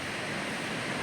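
Ocean surf at Kuta Beach in Bali, heard as a steady, dense wash of breaking waves that fills the whole moment without pause.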